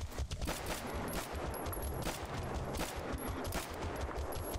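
Sustained, dense gunfire in STALKER GAMMA, a rapid rattle of overlapping shots that fills the whole stretch with steady loudness and no break.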